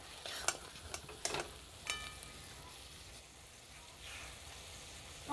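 Crab cooks in a pan with its water nearly dried off, a faint, steady sizzle broken by a few sharp scraping stirs early on, quiet and close.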